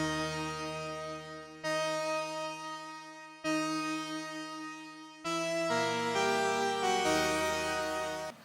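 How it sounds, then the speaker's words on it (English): Mini V3 Analogic synth preset playing a brass chord progression, sustained harmonic chords changing in blocks every couple of seconds, bright and full, with no voices. "The next thing I use is another mini V3 preset called the Analogic"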